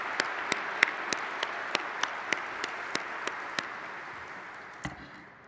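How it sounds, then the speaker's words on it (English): An audience at a regional summit applauds, a soft, steady wash of clapping marked by crisp, evenly spaced single claps up front that gradually fade. "Let's give our local partners a round of applause"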